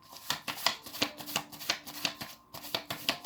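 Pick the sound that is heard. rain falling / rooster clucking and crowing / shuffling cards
shuffling cards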